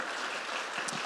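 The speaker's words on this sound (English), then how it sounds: "Let's give these guys a round of applause." A brief stretch of steady audience clapping at a conservative debate event held at a university, even and moderately loud, with no speech over it.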